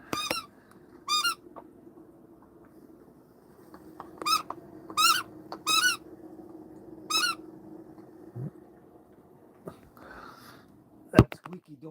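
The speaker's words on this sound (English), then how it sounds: "That squeaky donut is one of her favorites." A squeaky donut-shaped dog toy squeaks in a series of sharp, high squeals, singly and in quick pairs, over a quiet room hum with rain in the background.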